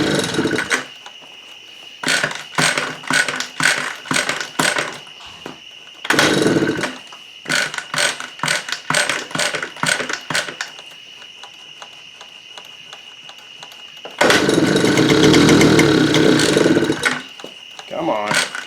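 Honda Express moped engine being kick-started, bursts of clattering mechanical cranking repeating in short runs with pauses between, ending in a louder, longer sputtering attempt, with a person talking in the gaps.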